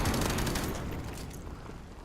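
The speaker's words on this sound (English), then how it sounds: "He just started shooting." Call of Duty gunfire sounds as a dense, continuous rattle of shots that gradually eases off over two seconds, with no talking.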